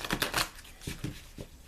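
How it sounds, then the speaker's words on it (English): Tarot cards being shuffled by hand in a quiet room: a quick run of soft riffling and flicking, then a few separate slaps and taps as the deck is squared, close and fairly gentle, with no voice. "as I'm shuffling the cards"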